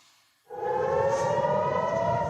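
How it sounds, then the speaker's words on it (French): An air raid siren wails in southern Israel, rising abruptly from near silence into a loud, steady, sustained tone that holds without pause. "6h28, la sirène retentit dans le sud du pays."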